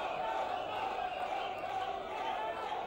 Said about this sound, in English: The crowd calling to Botile, go, go, go.